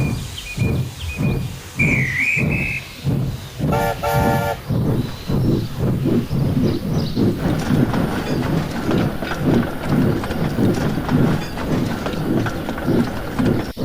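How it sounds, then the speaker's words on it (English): Two steam engines on an animated model railway set off from a station, with a short whistle toot and steady rhythmic chuffing that keeps going under a soft musical backing, with no talk. "The conductor blew his whistle, and both engines set off."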